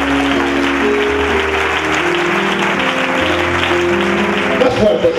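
A church congregation claps loudly and continuously during a worship service, a thick steady roar of applause over sustained music, with a few louder bursts near the end.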